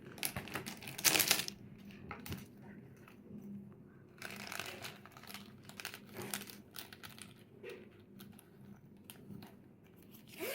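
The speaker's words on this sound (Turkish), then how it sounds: "Bu kalemleri bu kalemliğin içine koyacağım." Pens taken out and dropped into a pencil case, with close rattling, clicking and plastic crinkling in short bursts, including one louder rustle near the start.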